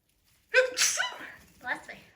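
A single sneeze, close and fairly loud, bursts out sharply and trails into a brief follow-up exhale.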